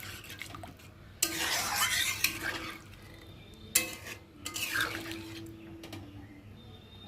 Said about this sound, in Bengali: একটু ভালো করে নেড়ে দেবো।